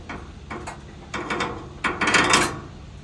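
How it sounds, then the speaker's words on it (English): A screw being released from the metal frame of a FocusInc Starfire 62U roll-to-roll UV DTF printer: several close, short ratcheting clicks in bursts, growing louder toward the end. "We release the screw"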